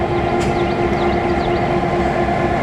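A diesel locomotive drones steadily with a deep engine hum and rumbling, close by, with faint squeals over the continuous noise.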